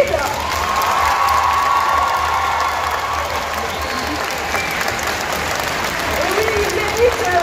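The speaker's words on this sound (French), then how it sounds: "ils méritent tous vos applaudissements" A Bordeaux Geekfest cosplay contest audience applauds and cheers loudly and steadily for the costumed contestants, a dense crowd roar with scattered whoops and shouts of children running throughout.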